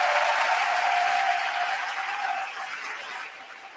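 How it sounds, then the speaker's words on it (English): Audience applause at a community celebration honoring organizers and activists, a steady wash of many hands clapping that starts loud and slowly tapers off, with no talking. "Can we show them a round of applause?"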